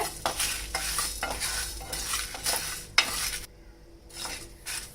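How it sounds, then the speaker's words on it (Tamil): Fenugreek and spices dry roast in a pan for fish curry, with repeated close scraping strokes of a stirring spoon, light sizzling and a brief clank against the pan. "இதெல்லாம் சேர்த்து ஸ்லோவில் வச்சு கொஞ்சம் நல்லா நீங்கள் வறுத்துக்கங்க இது கருகாத அளவு நீங்கள் வறுத்துக்கோங்க"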